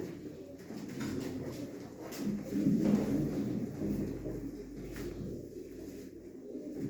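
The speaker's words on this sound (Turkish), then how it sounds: "Bunlar Kızıltepe'den getirdiğimiz yılların kuşları" Domestic pigeons at a live pigeon auction give low, repeated throaty coos that swell and fade, near and fairly loud against a soft room background, with no clear talk.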